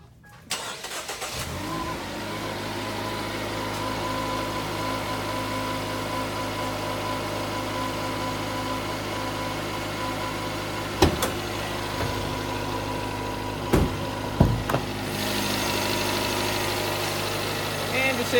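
A 2016 Jeep Renegade's 2.4-liter MultiAir engine idles steadily with a low, even hum, close by in an open engine bay, with a few sharp clicks and knocks near the end.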